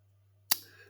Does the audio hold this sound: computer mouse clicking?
yes